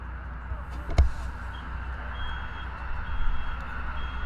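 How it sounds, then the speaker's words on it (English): An ice cream truck backs out of a parking lot behind a varsity baseball field, its reversing beeper repeating faintly and evenly at a distance over outdoor ambience, with a brief thump near the start. "The ice cream truck departing the parking lot behind us"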